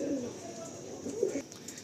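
Young pigeons, a red-headed pair kept for sale, give soft, low cooing in short murmuring bursts, fairly near but quiet, with faint background noise and no speech.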